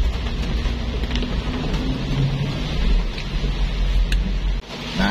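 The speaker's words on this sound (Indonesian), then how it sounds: "Ini benar-benar lebat hujannya." Heavy morning rain pours onto a busy boulevard in Manado as traffic passes, a dense, loud, steady roar with low rumbling and no voices.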